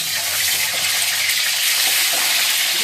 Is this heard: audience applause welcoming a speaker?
no